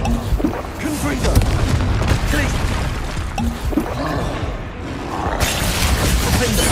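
In the Hogwarts Legacy video game, a Confringo fire spell explodes with loud, rumbling booms and fiery roaring bursts during combat. Several blasts are heard in quick succession, mixed with shouted voices.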